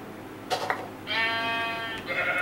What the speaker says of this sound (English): Oh, there's a sheep.